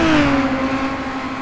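A Maserati race car from the 2-litre Maserati Cup series howls at high revs in a historic race at Longford, a strong steady engine note close by that eases slightly as it holds on.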